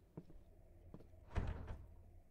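Door sounds in the horror game Fear The Moon, a few faint thunks and rattles followed by a louder heavy knock as the red door is tried with a dirty lockpick.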